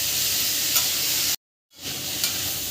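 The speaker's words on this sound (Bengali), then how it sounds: "শাকগুলো দিয়ে আমি একটু নাড়াচাড়া করে নেব।" Malabar spinach being stirred in a hot pan with shrimp, a steady close sizzle and frying crackle under scraping, cut by a short dead gap before the sizzling resumes.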